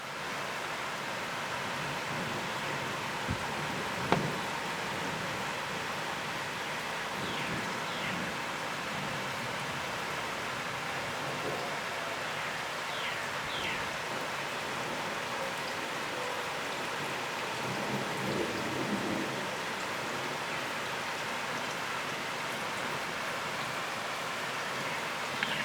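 Steady thunderstorm rain falling in southeastern Pennsylvania, a constant broadband hiss of downpour with a couple of faint brief knocks and no voices.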